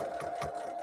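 Domestic sewing machine stitching steadily at close range, a continuous motor whir with a rapid needle rhythm pulsing through it, recorded indoors during a winter storm.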